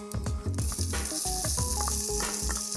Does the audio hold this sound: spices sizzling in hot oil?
yes